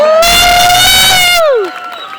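Crowd at a stage hypnosis show cheering and whooping, with one loud, sustained shouted whoop that slides downward at the end over a brief burst of crowd noise, then a quieter voice.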